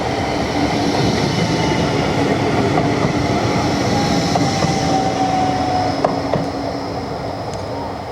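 A Blackpool tram passes close by on an Illuminations night, a loud, steady rumble of wheels on rail with faint squeals and clicks, the level holding for several seconds before easing slightly.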